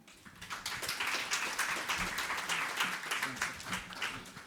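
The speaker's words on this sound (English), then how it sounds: "Can we give him a round of applause again?" A conference audience applauds a CEO, a dense wash of many hands clapping that stays steady and fairly loud from start to finish, with a few scattered voices mixed faintly underneath.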